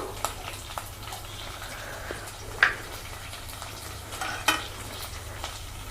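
Green chillies, dry chillies and ginger pieces frying in oil with mustard seeds for rava pulihora, a continuous soft sizzle with occasional sharp pops and spoon scrapes, close and without talk.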